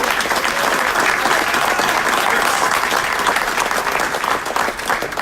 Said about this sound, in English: Big round of applause for Diego Sotelo